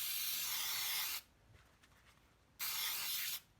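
Close, steady hiss from a cooking spray can aimed into a baking pan, one long burst followed by a shorter one after a brief pause, with no talking.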